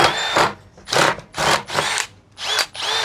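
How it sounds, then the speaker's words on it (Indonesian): Milwaukee M12 12-volt cordless impact drill drilling in speed 2 drilling mode, five loud close bursts of whirring that start and stop in an uneven rhythm, separated by short pauses. "menggunakan speed 2 mode drilling mati lanjut lagi mati lanjut lagi"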